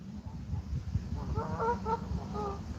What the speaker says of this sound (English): these geese be fighting